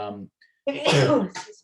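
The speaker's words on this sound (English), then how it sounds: "bless you." A person sneezes sharply once during a municipal building committee meeting, right after another voice briefly speaks, followed by a short exhale.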